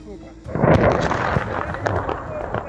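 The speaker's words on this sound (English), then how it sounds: "shooting down a Russian cruise missile by a Gepard anti-aircraft gun tank" A Gepard anti-aircraft gun tank fires at a cruise missile with a sudden heavy burst of rumbling gunfire and blasts. It is loud and sustained for a couple of seconds, with voices shouting over it.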